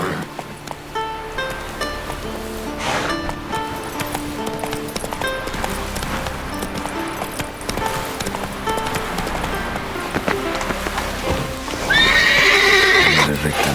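Roach, a horse in The Witcher 3: Wild Hunt, gallops with rapid hoofbeats, neighs loudly near the end, and game music plays underneath.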